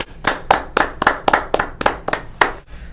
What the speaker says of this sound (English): Can we get a round of applause real quick?